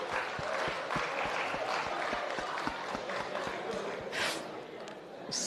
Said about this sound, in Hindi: इतने दुख में भी आप ताली बजा सकते हैं